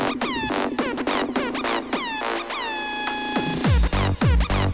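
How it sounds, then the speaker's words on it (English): An air horn blast is chopped and pitch-bent in rapid turntable-style scratches, loud repeated swoops rising and falling in quick rhythmic bursts. "Air horn scratch solo."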